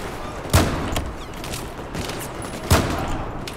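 Gunfire in Battlefield 4: two sharp, loud shots about two seconds apart stand out over a constant wash of busy game noise.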